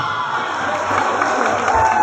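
A large crowd at a Jagannath devotional gathering claps and cheers loudly and continuously, with shouts and whoops mixed into the sustained roar.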